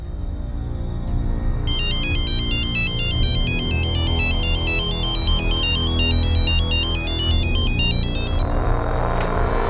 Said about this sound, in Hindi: आपटे, इसके बाप को दुबई में फोन करो।